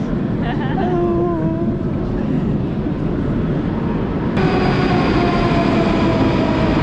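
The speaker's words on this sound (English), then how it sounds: "And here the train comes." A Moscow metro train rumbles and screeches into a station, loud and close, with squealing brakes and a rising roar as it arrives.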